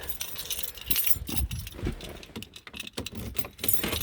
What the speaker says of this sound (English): Oh, keys are in my pocket.